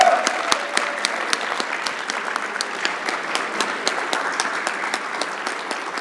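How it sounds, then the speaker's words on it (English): A lecture audience claps steadily and warmly for several seconds, with a dense, even patter of hands filling the room. "the noise please for Benoy Behl."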